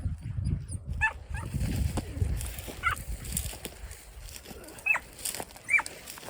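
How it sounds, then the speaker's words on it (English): Hunting dogs on a rabbit hunt give short, scattered barks and yelps outdoors, several separate calls at a moderate distance over low rustling background noise. "Stop barking outside."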